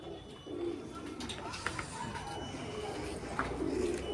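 Soft pigeon coos drift over a murmur of background activity, with a few faint calls rising now and then.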